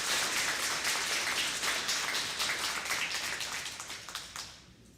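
Sustained applause from an audience at a Seattle Colleges government-to-government gathering, dense clapping that holds steady before tapering off near the end.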